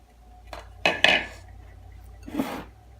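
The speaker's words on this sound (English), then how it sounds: "Now we're going to give this a good mix" While seasoning is mixed in a bowl, a utensil clinks and scrapes against it in a few short, close knocks with a brief swirl of stirring.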